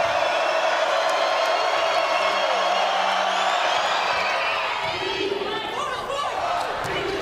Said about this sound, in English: Crowd making some noise for Cecily Bramschreiber.